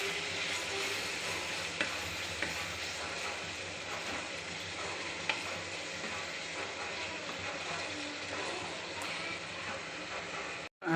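Onions sizzle steadily in a pan for hotel-style prawn gravy, a constant broadband frying hiss with a few faint utensil clicks, no voices.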